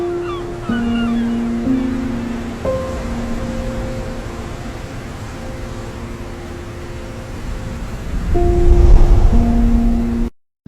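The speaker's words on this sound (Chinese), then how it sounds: "我们可以在音效库5底音氛围环境音里的21号自然环境音里找一个海浪海风的音效搭配一下试试" Windy beach ambience of rolling sea waves and gusting sea wind, a steady broadband wash under sustained horn-like tonal drones, swelling louder near the end before cutting off.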